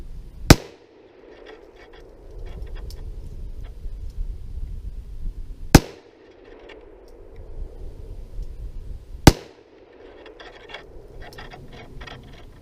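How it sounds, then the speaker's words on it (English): Three sharp, loud gunshots ring out outdoors at targets and a log, spaced several seconds apart, with quieter rustling and background noise between shots. "Just kind of shooting at the log."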